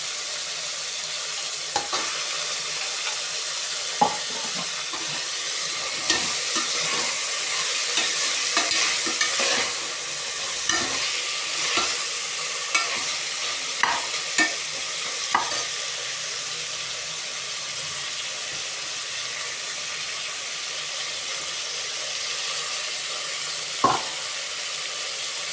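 Carrots, beans and potatoes frying in a pan for vegetable biryani, a soft continuous sizzle broken by repeated scraping stirs and clinks of a spoon against the pan.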